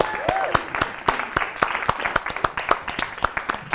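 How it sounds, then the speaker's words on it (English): A sparse audience claps to welcome a performer onto the stage at a climate justice mini-fest: distinct individual claps in an uneven rhythm, fairly close, with a brief voice or whoop among them. "Keep that applause going."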